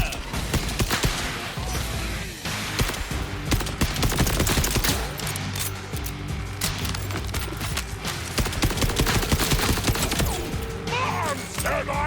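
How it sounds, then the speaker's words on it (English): In Borderlands 4, gameplay gunfire and grenade blasts crack and boom in dense, loud bursts amid clattering mechanical game effects, with a voice faintly audible underneath. "I think I just blew myself up with my very slow grenades"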